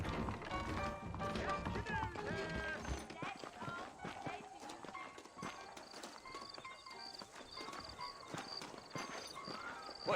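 Horses' hooves clop along at a running pace in the video game Red Dead Redemption while people talk over them, with a busy mix of other sounds in the background.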